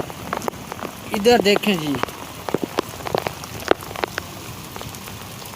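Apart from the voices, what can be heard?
heavy rain and hail falling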